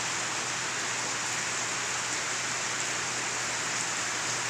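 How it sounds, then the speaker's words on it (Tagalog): Rain falls in a steady, even hiss, a continuous broadband wash of drops on surfaces with a faint low hum beneath and no voices. "Umulan, Boy Tapang, ha?"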